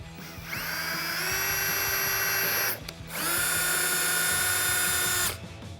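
Power drill boring a hole with stepped-up bit sizes to fit a rib nut during a Dodge Challenger rear spoiler install, two sustained whining runs of several seconds each with a brief stop between, close and steady.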